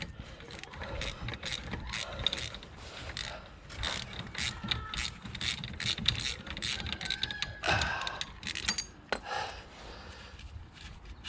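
A ratchet clicks repeatedly while loosening the 5mm Allen screws on the brake caliper of a 2009 Mercedes-Benz W204 C200, the tool heard up close in short bursts of rapid pawl clicks with some clunks.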